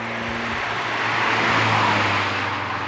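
A 2002 Audi S3 with a manual gearbox accelerates, its engine a loud, steady, broadband roar that swells slightly mid-clip, heard from close range with no talking.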